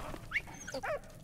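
A dog in the video game Valiant Hearts gives a few short yelps and whimpering barks, fairly close and quick in succession, with game background noise underneath and no talk.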